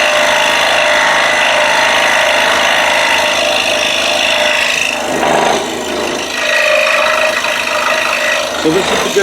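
A scroll saw cuts wood for a DIY ball and bat wall holder, giving a steady, close, buzzing rasp that runs the whole time with small dips where the cut turns.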